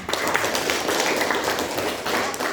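A classroom of students claps together in a brief, dense burst of applause, steady and fairly close for a couple of seconds.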